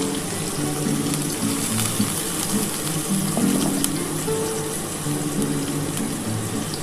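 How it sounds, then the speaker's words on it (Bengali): Bitter gourd slices fry in oil in a pan, giving a steady close sizzle and crackle that runs loud and unbroken throughout, with no talking. "বন্ধুরা আমি উচ্ছেগুলো ভেজে নিচ্ছি।"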